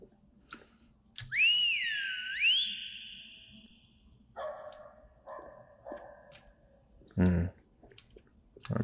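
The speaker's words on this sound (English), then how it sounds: "Using the spacebar, we can whistle. Whistle for our lost pup." A two-note swooping whistle in the horror game Lost In Vivo, blown to call a lost dog in a sewer. It rises and falls loud and clear over a low ambient rumble, followed by scattered clicks and softer game noises.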